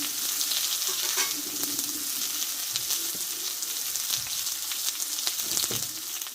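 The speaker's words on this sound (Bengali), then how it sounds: "দেখো বন্ধুরা এদিকে আলুটা কষতে থাকুক" Long-cut potato pieces frying in a pan, a continuous close sizzle with light crackles and occasional stirring scrapes throughout.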